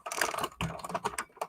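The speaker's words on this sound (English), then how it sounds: "This is a Smith Corona typewriter from the 80s" Rapid keystrokes on a 1980s Smith Corona typewriter, a quick irregular run of crisp clacks close up with brief pauses between bursts.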